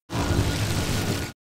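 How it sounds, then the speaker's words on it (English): Titanfall crackle that gives away a nearby enemy pilot, a soft, dense, steady static hiss lasting just over a second, then cutting off abruptly. "I listen very carefully for that crackle I told you about earlier"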